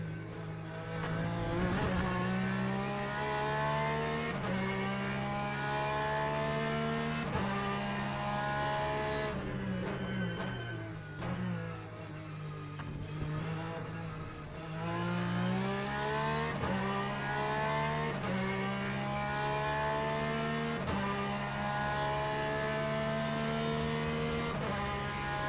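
A race car engine in the Le Mans Ultimate video game hums steadily with smooth rising and falling revs and gear changes as the car slows into the pits, loud and continuous with no talk.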